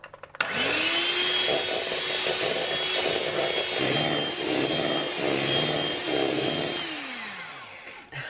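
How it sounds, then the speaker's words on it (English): Electric beaters whip cream in a bowl, a steady loud motor whir with sharp spin-up at the start and wind-down at the end, the pitch wavering slightly as the beaters move through the thickening cream. "I'm going to use electric beaters to whisk until it just starts to become whipped cream"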